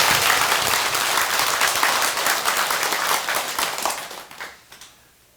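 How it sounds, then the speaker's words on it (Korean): An audience at a Buddhist dharma assembly at a temple applauds a ceremony, a loud dense round of clapping that thins out and dies away to silence at the end. "다시 한번 여러분 선언장 시공식에 박수를 한번 부탁드립니다."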